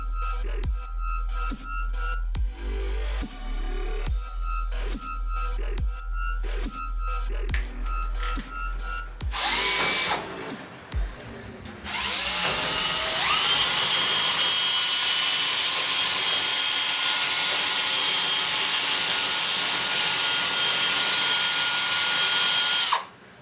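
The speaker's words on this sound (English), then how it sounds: "with the drill, I could use the entire length of helical and pull it out with the drill with ease" A power drill pulls helical coil springs out of an open-spring mattress, whirring in repeated short bursts at first and then running in one long, loud continuous spin.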